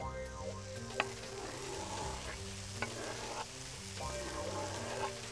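Chopped tomatoes go into onions already frying on a plancha for rougail saucisse, producing a soft, steady sizzle with a few light clicks and stirring sounds, heard faintly against a low background hum.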